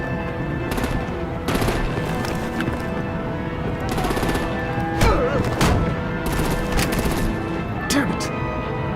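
Gunfire and artillery blasts from the Batman: The Enemy Within video game, with sharp shots and bursts scattered over a steady bed of game sound and music, loud throughout.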